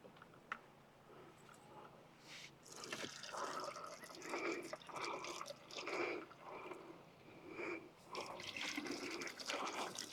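Gasoline glugs and trickles from a gas can into a Jeep's tank, a faint, close pouring with irregular gurgling pulses and splashes over roughly ten seconds, without talk.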